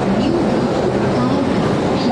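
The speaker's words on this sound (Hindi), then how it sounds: "ये आ चुकी अपनी रेल" Steady rumble and hum of an Indian Railways passenger train at a station near Prayagraj, a loud continuous wash of sound close by with faint background voices and no clear rhythm.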